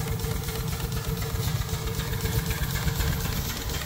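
An old engine runs steadily on a homemade steam engine wagon built around a boiler from a Chinese laundry, giving a continuous close, loud low rumble with an even idling pulse and no talk.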